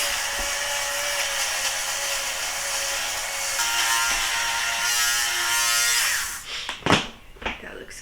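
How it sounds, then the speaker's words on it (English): Electric fabric shaver runs steadily over a pilly sweater, a continuous buzzing drone that holds for about six seconds before breaking into brief handling rustles and knocks. "I did go through and sweater shave"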